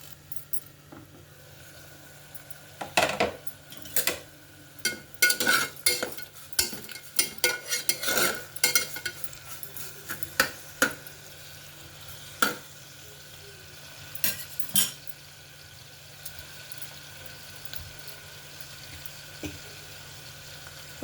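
Soya granule keema vegetables with salt and turmeric sizzle in a pan while a spoon stirs in bursts of clattering scrapes, busiest early on, then trailing off to occasional knocks over a soft steady fry.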